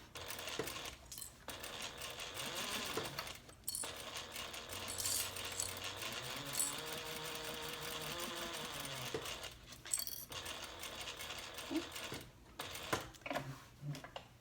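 A sewing machine stitches a slip pocket on a handbag in short bursts of rapid mechanical whirring, broken by brief pauses for pivoting, close and fairly quiet, with no talk.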